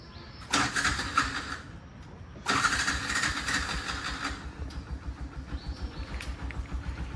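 A Chrysler car engine cranks twice, a short first attempt followed by a longer start, then settles into a steady rhythmic idle close by, with faint birdsong in the background.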